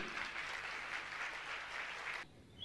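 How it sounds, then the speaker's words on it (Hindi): An audience at a religious gathering honoring a cancer specialist breaks into a steady round of applause that holds evenly, then cuts off abruptly near the end, leaving near quiet. "मैं चाहूंगा आप जोरदार ताली आपकी बजना चाहिए।"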